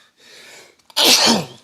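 A soft intake of breath leads into one loud, explosive sneeze, close and sudden.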